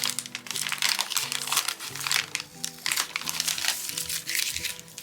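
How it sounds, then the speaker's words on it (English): Sticky tape is peeled off collage paper for an art journal masterboard, a close, quiet run of crinkling and crackling paper rustles that comes in uneven bursts. "Just take this little bit of sticky tape off."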